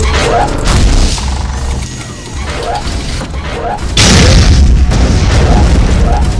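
Bombs planted on a giant robot's legs go off in a run of loud, heavy booms and crashes, with a second big blast about two-thirds of the way through that keeps rumbling to the end.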